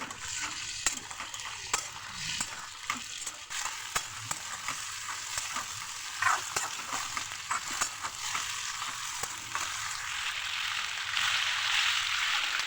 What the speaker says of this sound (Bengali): পেঁয়াজ দেওয়ার পর আলুটা আরও একটু ভেজে নেব ভালো করে।